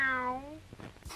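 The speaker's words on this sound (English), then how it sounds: "Meow." A cat meows in a 1962 horror film, a single drawn-out, falling meow that trails off into quieter movie sound, with a brief bump at the end.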